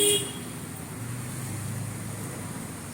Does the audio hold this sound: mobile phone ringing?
no